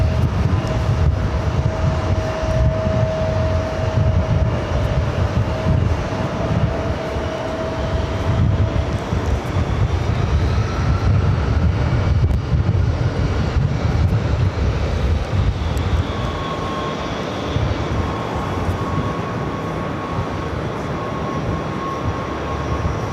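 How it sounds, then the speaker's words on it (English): Virgin Atlantic Airbus A350-1000 touching down on runway 22 left at JFK, arriving from London Heathrow: a steady, broad jet roar with low rumble holding throughout, fairly loud and distant-sounding, with no talk. "The Virgin A350 1000 flight committed from London Heathrow, touching down on runway 22 left"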